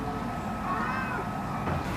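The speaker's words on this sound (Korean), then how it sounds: "여전히 그 자리에서 울고 있는 어미 고양이." A mother cat meows plaintively near a gap where her kitten is trapped, a drawn-out wavering cry rising and falling over a steady, dense background rumble, moderately loud.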